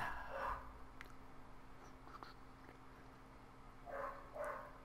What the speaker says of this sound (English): I apologize if you can hear a dog.